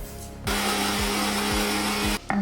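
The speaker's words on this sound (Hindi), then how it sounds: "अब इसी ब्लेंडर में ना मैं ये उड़द की दाल को भी पीस लूंगी।" A countertop blender grinds soaked urad dal for bhalla, a loud steady whirring grind held for about two seconds after starting, with a few rhythmic low thumps as the batter churns, then it cuts off.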